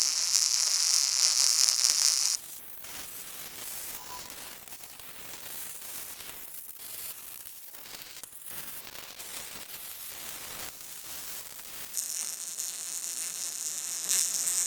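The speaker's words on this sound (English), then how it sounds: "Let's weld this thing out." Steel trailer ramp gate being welded, giving a steady close buzzing and sizzling arc crackle that runs in long continuous passes, shifting in tone between beads.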